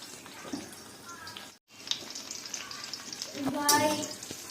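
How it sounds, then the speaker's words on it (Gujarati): Dates cooking in ghee for khajur pak, a continuous close sizzle with stirring scrapes, briefly cut off, and a voice speaking near the end. "ઘીમાં સોતડી નાખશું અને ખજૂર એકદમ ઢીલો થઈ જાય ને ત્યાં સુધી આપણે હલાવવાનો હોય છે"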